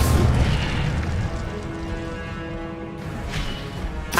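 The Incendio fire spell in Hogwarts Legacy, a sustained whooshing roar of flame with a low booming rumble, loud and continuous and ending with a fresh burst.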